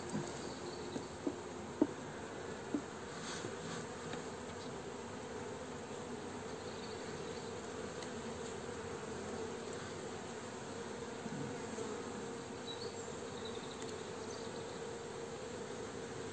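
Continuous dense buzzing of many bees at an open hive, close and steady throughout, with a few faint knocks early on.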